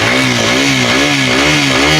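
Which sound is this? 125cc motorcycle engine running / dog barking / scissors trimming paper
125cc motorcycle engine running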